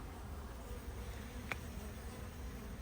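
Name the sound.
wasps at beehive attacking bees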